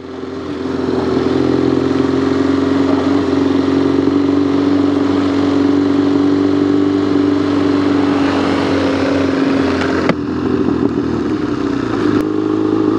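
A Yamaha Tenere 700 and a BMW GS 1250 ridden on sand, their engines droning loud and steady close by, with clattering bumps near the end and no talk.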